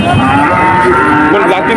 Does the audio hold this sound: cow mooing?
yes